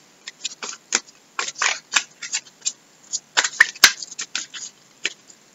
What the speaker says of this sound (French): Alors, je vais tirer 5 cartes.